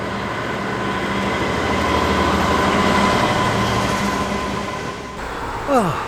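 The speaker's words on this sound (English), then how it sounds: "chasing the class 20s on the Railhead treatment train" Class 20 locomotives haul a Railhead treatment train past Hatfield and Stainforth, a loud rumbling pass with droning engine tones and rolling wheel noise, easing near the end as a brief wheel squeal rises.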